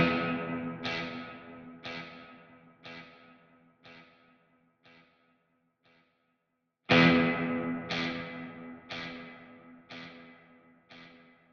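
Electric guitar through an Axe FX III with reverb placed before delay, a series of struck chords each ringing out into decaying repeats, a quiet gap, then a louder chord with fresh echoing repeats.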